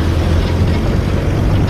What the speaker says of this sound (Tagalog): Grabe traffic.